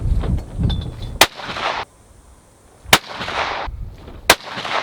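Three loud, sharp rifle shots from a rifle fitted with an EC Tuner muzzle brake, spaced about one and a half seconds apart, each with a short crack and a low outdoor rumble between them.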